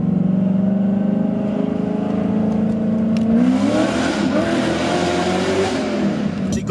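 A V1 Cadillac CTS-V engine revving loudly inside a tunnel, a deep sustained drone that climbs in pitch as the throttle opens, echoing off the walls, with no talk.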